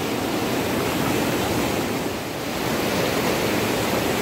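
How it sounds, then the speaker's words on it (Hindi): A mountain stream at Bootapathri in Gulmarg, Kashmir, rushes in a steady, loud, broadband wash of flowing water, heard close up and continuous with no talking. "मैं बिल्कुल पानी के बीच में खड़ी हूँ"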